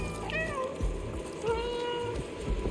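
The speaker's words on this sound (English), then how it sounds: "there's a dedicated meow button that I rarely stopped pressing" Cat meows from the game Stray, several short repeated mews with rising and falling pitch, close and clear over a low ambient game background.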